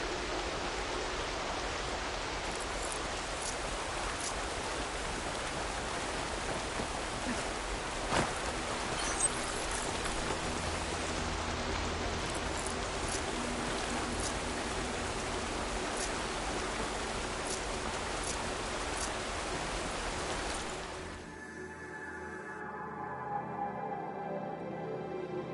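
Steady rain falls in the open world of Horizon Forbidden West, a dense, even hiss that holds for over twenty seconds before thinning abruptly near the end, leaving a quieter, sparser patter.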